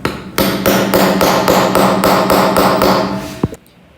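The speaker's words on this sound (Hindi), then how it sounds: "इनको हल्का हल्का सा नीचे से हथौड़ी से ठोक देना है" Hammer tapping bolts into a metal sewing machine table stand for a Juki machine, a steady run of about ten evenly spaced, loud ringing knocks, ending with one final sharp strike.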